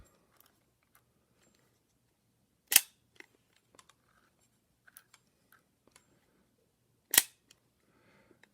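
Shutter of a 1980 Zorki 1 rangefinder camera firing twice, each a sharp, close mechanical snap in an otherwise quiet room, with faint small clicks of handling in between.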